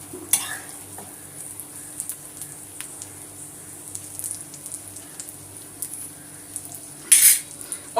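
Food frying gently in a pan on a low flame, a soft continuous sizzle with scattered clinks of a utensil stirring and scraping, and a brief louder clatter near the end.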